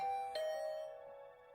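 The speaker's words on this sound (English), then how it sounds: "I just returned to my room when the doorbell rang." A doorbell in the video game The Hundred Line: Last Defense Academy gives a single bright chime that rings out and slowly decays to silence.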